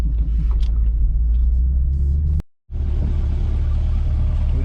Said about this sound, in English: Let y'all hear the difference in these exhaust tones.